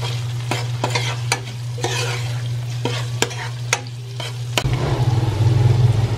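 Vegetables sizzle in a frying pan while a utensil stirs and taps against it in sharp, irregular knocks over a low steady hum, and the frying swells louder near the end.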